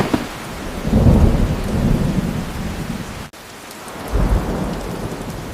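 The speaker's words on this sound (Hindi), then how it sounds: "जल्दी करो, बारिश बढ़ रही है।" Heavy rain pours steadily in a village setting while deep thunder rolls twice, swelling loud around the first and last seconds, with no voices over the downpour.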